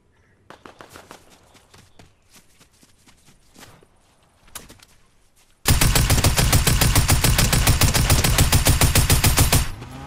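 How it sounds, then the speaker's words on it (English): Gunfire in the Fortnite video game: scattered single shots and footsteps, then a loud sustained burst of rapid automatic fire lasting several seconds before cutting off. "I hear gunshots"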